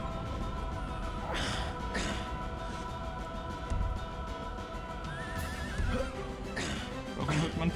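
Horses neighing and whinnying in the video game Turok 2, several loud calls spread across the clip over a steady game soundscape with occasional clip-clop and thumps.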